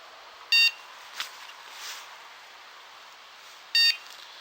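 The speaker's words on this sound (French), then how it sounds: "ça arrête pas de biper depuis tout à l'heure" Carp fishing bite alarm at a gravel pit giving two short electronic beeps a few seconds apart, faint and distant over a quiet outdoor background.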